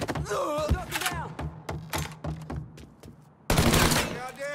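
Gunfire in the Mafia III crime game: rapid bursts of close, loud shots, then a run of separate single shots, with a shouting voice at the start and again after a brief lull.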